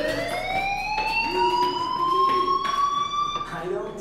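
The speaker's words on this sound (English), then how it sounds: "Hey, do you hear that fire alarm?" A fire alarm rings inside the video game Life Is Strange, a steady rising electronic wail with pulsing bursts that continues loud and unbroken throughout.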